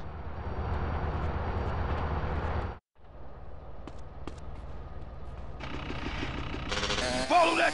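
Train rumbling and creaking in GTA San Andreas, a broad steady roar that cuts out briefly near three seconds, then returns with metallic squeals and clanks building toward the end.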